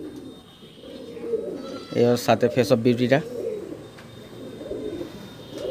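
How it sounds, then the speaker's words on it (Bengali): A restless pigeon held in the hand gives a loud run of rhythmic, pulsing coos lasting about a second, close up, while someone talks before and after. "খুব ছটফটে পায়রা, এদেরকে হাতে ধরে রাখা খুব মুশকিল"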